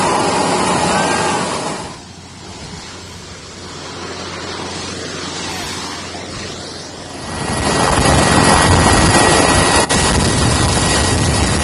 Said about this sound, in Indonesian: helikopter Karakal TNI Angkatan Udara